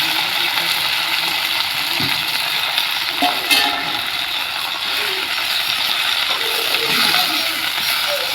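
Leaves sauté in a pan and are turned with a wooden stick, making a loud, steady sizzle broken by occasional knocks and scrapes as the stick hits the pan, with no one talking.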